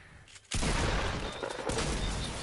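A loud hand cannon shot from the Fortnite video game bursts in after a brief quiet moment, followed by a dense, sustained roar of gunfire and game noise that continues to the end.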